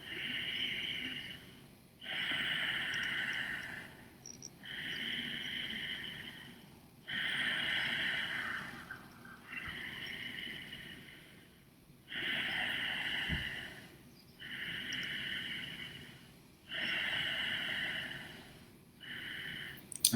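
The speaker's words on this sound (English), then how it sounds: "continue breathing from that space that's being constricted, gently constricted in the back of the throat" Slow, audible breaths drawn in and pushed out through a gently constricted throat, an ocean-like rasping hiss in steady cycles of about two and a half seconds, close and fairly loud with no talking.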